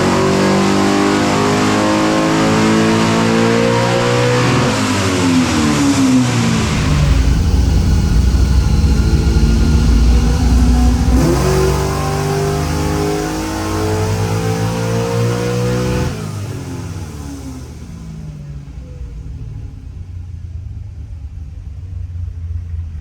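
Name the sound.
69 Camaro naturally aspirated big block engine revving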